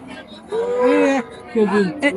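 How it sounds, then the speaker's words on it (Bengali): A native Bangladeshi milk cow moos loudly and close by at a cattle market, giving one long low call followed by a shorter second moo. "একটি পিওর একটি দেশি গাবি গরু"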